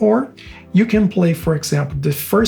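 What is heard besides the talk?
None of the usual background noises is heard.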